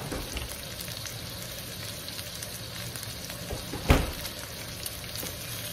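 Meat browns with garlic, onion and ginger for Bicol express, giving a quiet, constant frying sizzle in a pan, with one brief clack of a utensil midway.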